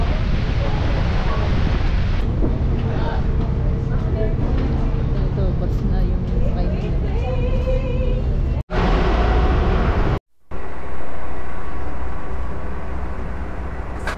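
Strong wind roars and buffets the microphone continuously on an uphill ride in Marinduque, Philippines, with brief dropouts near the end; talk is mixed in.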